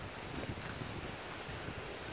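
Strong wind gusting outdoors among trees, a steady, dense roar that buffets the microphone throughout with no break, loud and close.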